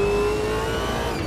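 Race cars in the sim racing game Automobilista 2 roaring past at high revs, a loud steady engine whine with a slight pitch drift, heard alone and close.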